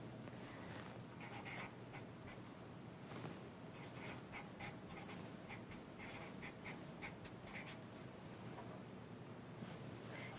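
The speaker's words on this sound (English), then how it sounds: "So here, I'll write the original problem." Pen or marker writing out an algebra problem, faint continuous scratching strokes with small taps, quiet and close with no talking.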